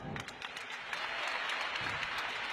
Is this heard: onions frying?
no